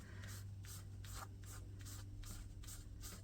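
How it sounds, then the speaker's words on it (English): A paper towel rubbing paint onto a furniture piece for a painted finish, producing rhythmic back-and-forth swishing strokes, about eight quick passes, close and soft with no talking. "I am just going to grab a paper towel. And I'm going to rub it on here."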